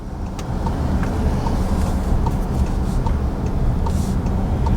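Steady road noise and a low engine hum from a 2018 Volkswagen Atlas SEL 4Motion SUV driving along, heard from inside the cabin, with faint ticking in the background.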